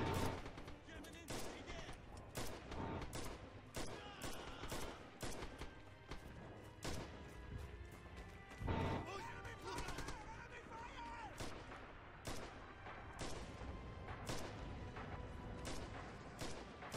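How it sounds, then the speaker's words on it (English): Dense suppressing gunfire in the Red Orchestra 2 multiplayer game, rapid overlapping rifle and machine-gun shots cracking continuously with occasional heavier blasts, loud and close, with a voice talking underneath. "It's fucking suppressing fire!"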